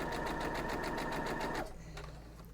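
Sewing machine stitching a quilt block, a steady rapid needle rhythm running loud and close for about a second and a half before stopping abruptly, leaving quiet room tone; no voices.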